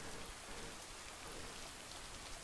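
Steady rain pattering on a surface, a dense, even hiss of drops that continues without pause.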